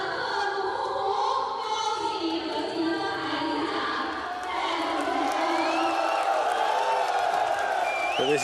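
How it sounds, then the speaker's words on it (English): A crowd at a snooker tournament in Xi'an, China applauds runner-up Judd Trump with continuous clapping and cheering at a steady, full level, and a few voices rise above the noise. "Tremendous applause for the runner-up, Judd Trump."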